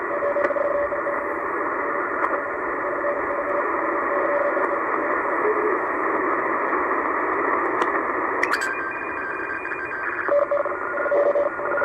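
A STANAG teletype data signal on shortwave at 8653 kHz drones steadily, a continuous buzzing, warbling radio tone with static hiss, briefly shifting pitch near the end.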